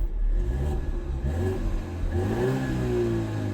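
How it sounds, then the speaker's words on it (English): BMW G20 320i engine revving and accelerating in Sport+ mode, heard from inside the cabin, a steady loud drone rising in pitch through the gears with no talking. "let's hear sound inside cabin while he's accelerating"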